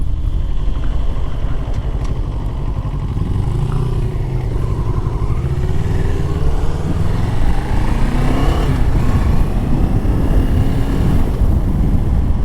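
A 2024 Moto Morini Calibro Bagger motorcycle under way on the road, with a steady low engine drone buried under constant wind buffeting and rumble throughout.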